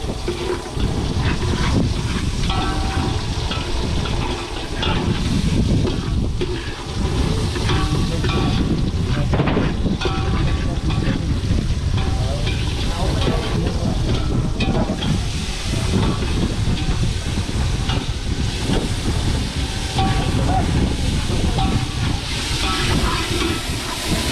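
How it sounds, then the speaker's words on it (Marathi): Onions with tomato frying in a pan aboard a fishing boat, cooked for a pomfret meal: a loud, continuous sizzling hiss that runs steadily throughout, with faint clatter and background noise. "आपण कांदा एकदम फ्राय करू सगळं"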